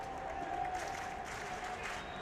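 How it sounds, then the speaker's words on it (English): A crowd cheers and claps steadily from a distance inside the Tokyo Dome during a baseball game, with a broadcaster's voice talking over the crowd. "It never left their cheering section here at the Tokyo Dome."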